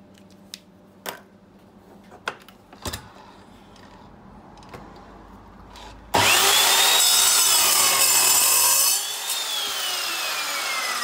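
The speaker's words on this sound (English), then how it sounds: "I'm now going to cut it to that length and then weld the plate on that line." A power saw cuts a metal plate to length, starting after several scattered knocks and clatters and then ringing loud and steady for about three seconds before easing slightly as the blade continues through the workpiece.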